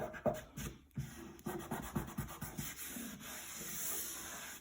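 Hand sanding a stained surface with 320-grit sandpaper, a close, steady rasping scrub of repeated back-and-forth strokes over about five seconds, no voices.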